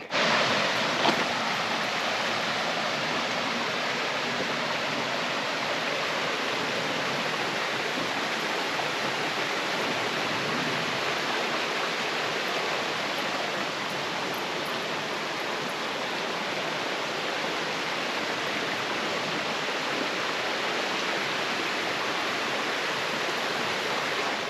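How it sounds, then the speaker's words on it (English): Waterfall along a trail in Shenandoah National Park, a constant broadband roar of falling water, close and loud, unchanging for the whole stretch with no voices. "we made it to a waterfall over here"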